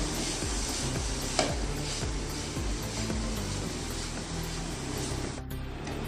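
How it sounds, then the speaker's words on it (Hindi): A coconut laddu mixture with added food colour is stirred in a pan: a steady, soft scraping and faint sizzling that continues evenly throughout, fairly quiet, with one small knock of the spoon and no talking. "अब इसको मिक्स कर लेना है अच्छे से।"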